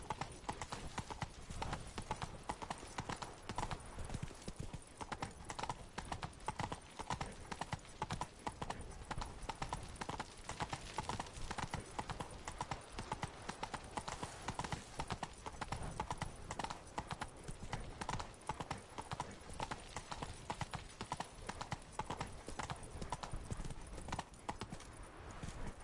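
Roach, the horse from The Witcher game, gallops with fast, even hoofbeats that drum on without pause, close up and dominant over a low background wash.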